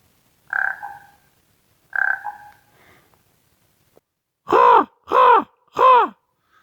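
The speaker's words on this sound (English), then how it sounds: "My raven friend just flew by again. I gave him a croak and he looked at me" Raven croaks: two hollow, throaty calls spaced apart, then three louder, harsher croaks in quick even succession, close and clear over silence, with no talking.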